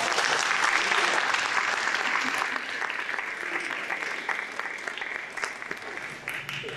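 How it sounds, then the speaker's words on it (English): Audience applause at a community band concert, a steady dense wash of many hands clapping that stays loud throughout and tapers only slightly toward the end, with no voices over it. "Would you give her a round of applause?"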